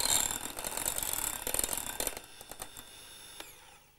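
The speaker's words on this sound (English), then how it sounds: "Switch on the beaters, and that will slacken it down and make it smoother." Electric beaters whisk a mixture after a splash of white wine vinegar is added, a close steady mechanical whirr for about two seconds that then cuts out, leaving faint clicks and room noise.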